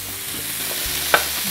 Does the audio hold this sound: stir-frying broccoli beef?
yes